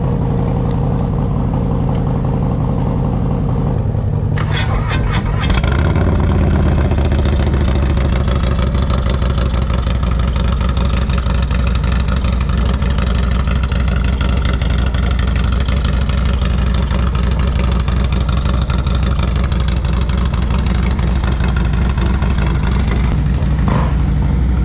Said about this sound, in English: Listen to a cold start on a true motorcycle.